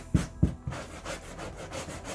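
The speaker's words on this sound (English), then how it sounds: "So I found it's best to use this wire brush." Wire brush scraping sticky adhesive residue off a Range Rover L322 headliner: a few hard rasping strokes up front, then quicker, lighter rubbing scrapes, heard close and alone.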